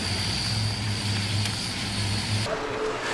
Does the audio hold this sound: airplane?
yes